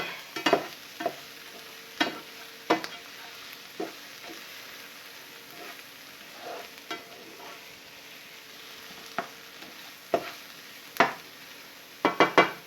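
Onions sauteing in a pan, a steady sizzle under intermittent sharp scrapes and stirs of a utensil against the pan, close and fairly loud, with no talk.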